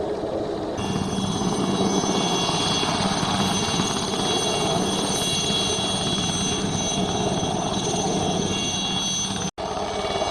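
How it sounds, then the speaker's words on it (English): An Air Corps helicopter hovers over Muckish Mountain, its steady rotor thrum and whining turbine tones continuous and fairly loud across the open hillside, with a brief dropout near the end and no talk. "Just see the helicopter now, just hovering over Muckish."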